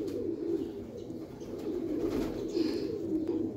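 Soft, low cooing of Kamagar pigeons rolls on continuously, a murmuring throaty hum from several birds close by.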